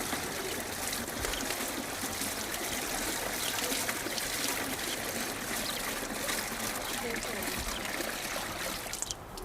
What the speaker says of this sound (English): and poured back into the boiling vat.